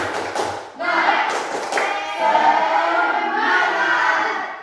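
A school class claps in quick unison bursts, the rhythmic patter filling the classroom alongside children's voices calling out together.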